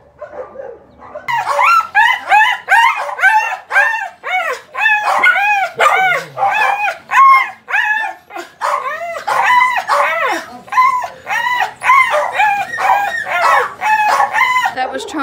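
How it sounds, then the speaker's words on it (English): Dogs and puppies at an animal shelter bark and yelp nonstop, a loud, dense chorus of overlapping close barks filling the whole stretch with barely a pause. "those new puppies don't know who I am, so they're yelling"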